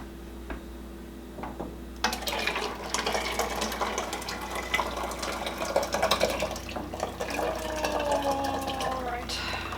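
Carrot ginger soup poured back into a pot, a steady close liquid splashing and trickling that starts abruptly and runs continuously, with light clinks along the way.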